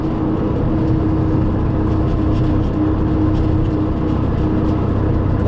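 A tractor engine drums steadily at close to 1000 rpm, pulling uphill with a drum mower attached. The low drone is loud and constant, and no one speaks over it.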